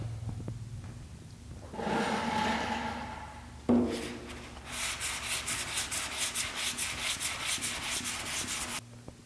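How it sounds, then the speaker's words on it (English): Long board sanding block pushed across the sheet-metal fender of a 1950 Chevy truck, making rhythmic rasping strokes that are moderately close. A quicker run of repeated back-and-forth scrapes follows. "let's hit it with the long board here real quick and see how it looks"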